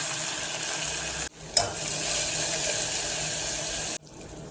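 Chopped onion drops into hot oil with mustard seeds and cumin for a Malvani-style dish, giving a steady close sizzle with a brief sharper burst as it hits the pan before the sound cuts off.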